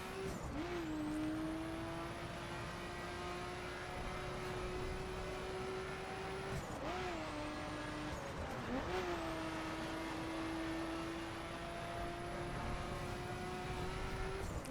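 A street Nissan Skyline in The Crew drives under a steady, loud engine whine, with the pitch dropping and climbing back at gear shifts and brief skids, and no talking.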